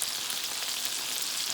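Chicken pieces sizzle in a pan, a steady bright hiss of frying oil with no pauses, close and even throughout, with no voices.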